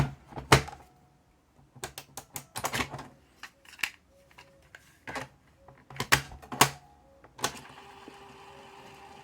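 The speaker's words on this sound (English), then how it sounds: "let's pop that one back in the cassette deck and see how bad it sounds" A BASF cassette is pushed back into a cassette deck: a run of close plastic clicks and clacks, snaps of the door and mechanism, then a brief whirring at the end. No voices.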